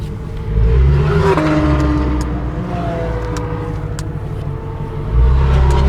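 Loud Shelby Mustang sports car engine revving hard on the Laguna Seca track, a deep rumbling roar rising and falling through gear changes, close and continuous with a louder surge near the end.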